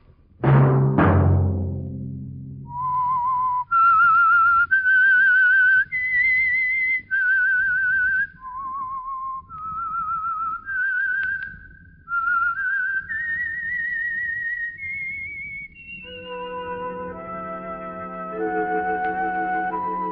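The Whistler radio show theme tune whistled clearly, rising and falling over a string of sustained notes, opening with a sharp percussive hit and ending with a low held tone.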